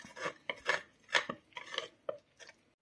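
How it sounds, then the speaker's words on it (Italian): Dough of water, oil and yogurt for pan-cooked naan is stirred with a spoon in a bowl, giving a series of close, short scraping and clinking strokes in an uneven rhythm. "aggiungo l'acqua, l'olio e infine lo yogurt. Mescolo con il cucchiaio."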